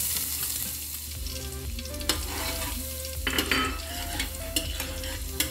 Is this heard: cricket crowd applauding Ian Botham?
no